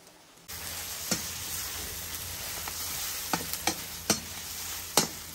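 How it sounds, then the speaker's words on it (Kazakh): Chopped meat, onion and carrots sizzle steadily in a hot pan for a traditional Mongolian tsuivan dish, with sharp scraping clicks of a utensil stirring at intervals. "Еттір 10 минуттай қуырылды"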